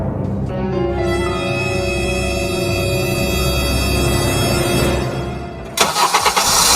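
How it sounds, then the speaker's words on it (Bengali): A car engine cranks and catches after being repaired, settling into a loud, steady close idle that holds for several seconds before a few sharp knocks and a burst of noise at the end. "আরে এই তো গাড়ি তো স্টার্ট নিয়ে ফেলছে।"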